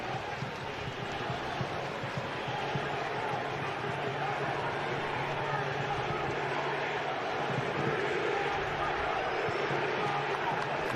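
Raucous Tunisian football crowd at BMO Field during a rain delay at an international friendly against Canada, a steady, dense roar of massed voices held at an even level throughout, with no breaks or swells.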